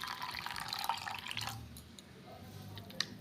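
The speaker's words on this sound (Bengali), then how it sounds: "আর আরেক কাপ জল দিচ্ছি।" A cup of water pours into milk while making babarsa sweets, a soft trickling and dripping close by that fades toward the end, alone with no talk.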